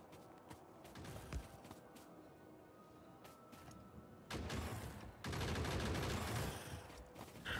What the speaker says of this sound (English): I like the new sound for the turrets.